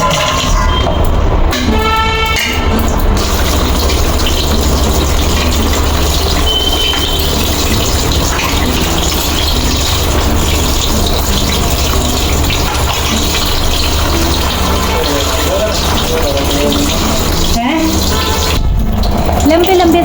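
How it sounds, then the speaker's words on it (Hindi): Steady loud gush of tap water running continuously while long sliced potatoes are washed in a kitchen, close and unbroken throughout. "लंबे लंबे स्लाइस में आलू कट करने के बाद धो लिए हैं"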